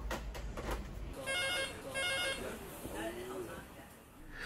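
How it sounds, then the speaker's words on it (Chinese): A telephone rings in short repeated bursts at a busy Cantonese private-kitchen restaurant taking reservation calls, with talk before and after the rings. "但预约电话却从未停过"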